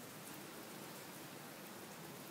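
Heavy summer rain pours down as a steady, even hiss with no breaks. It sounds faint and distant, and no one speaks.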